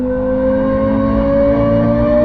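A recorded Lexus LFA engine note plays through the car speakers of a new Toyota GR GT, a steady, loud, droning engine tone holding evenly with no talk.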